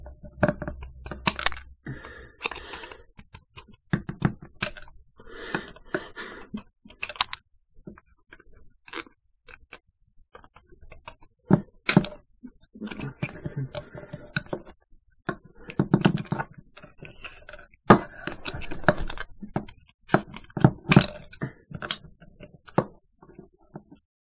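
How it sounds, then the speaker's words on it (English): A credit card being cut into pieces, heard as sharp, intermittent snips and clicks spread irregularly across the stretch, close and fairly quiet, with no talking. "I'm not gonna cut this in shapes. I'm gonna cut it in pieces."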